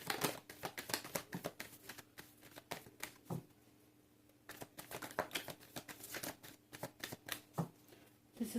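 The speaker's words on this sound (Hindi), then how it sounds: "this is my last shuffle" A deck of tarot cards being shuffled, giving soft, close riffling flutters in two bursts with a quiet pause between them, faint overall and without talk.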